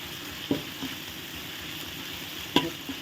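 Red curry paste is stir-fried in coconut milk with a low, steady sizzle. A few sharp clicks of a utensil strike the pan. The sound is fairly quiet and close, without speech.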